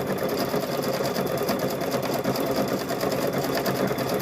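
A sewing machine runs steadily while stitching a fabric microwave bowl koozie, giving a loud, continuous, close-up rapid whir with no pauses and no talking.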